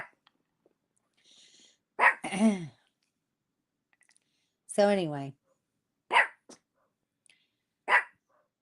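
A neighbour's dog barks outside in a few short, sharp bursts spaced apart, while people talk nearby between the barks.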